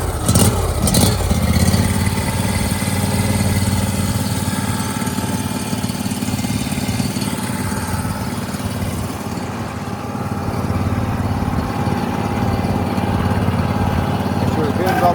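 Engine of a used 36-inch Barreto trencher starting up and then idling at low throttle, a steady mid-pitched drone that runs throughout with a voice speaking over it.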